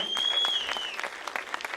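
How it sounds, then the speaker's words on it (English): Audience applause honoring the founders of an independent film festival, a continuous wash of clapping from a crowd with a brief high whistle or tone near the start. "there's a round of applause for the founders of the Standalone Film Festival"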